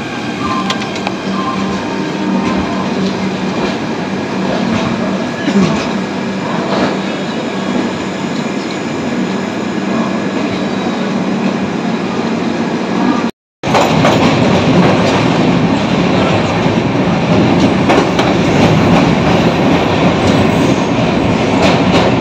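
The Ranchi Rajdhani Express passes on the adjacent line at Deen Dayal Upadhyay Junction at night, a loud, sustained rumble of wheels with rhythmic clatter and faint squeal, heard from close by with a momentary dropout near the middle.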